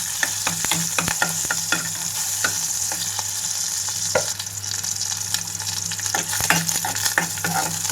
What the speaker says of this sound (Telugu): రెండు నిమిషాల పాటు వేయించుకుంటున్నాను వీటిని